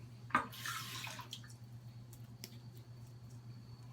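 Cold tap water runs briefly onto an alum block during a wet shave, a short, soft splashing gush lasting under a second before fading into a quiet room hum.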